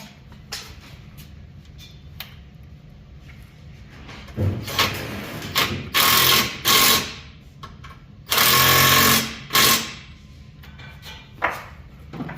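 Header bolts on a Pontiac being tightened with a wrench, bursts of ratcheting and clattering metal tool noise, several loud stretches separated by quieter pauses and small knocks.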